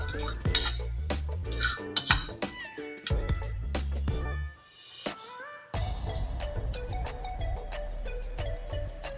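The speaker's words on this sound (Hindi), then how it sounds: "इसको अच्छी तरह चलाएं खीर को।" Kheer being stirred in a pot: repeated metallic clinks and scrapes of a spoon against the pot, with a cat meowing over the stirring at times and a short pause midway before the clatter resumes.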